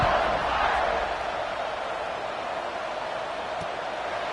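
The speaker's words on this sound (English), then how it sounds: "this crowd is buzzing after that last score" A stadium crowd in an American college football video game, Kansas against Notre Dame, gives a broad steady roar that swells at first, then settles into a constant loud buzz without clear speech.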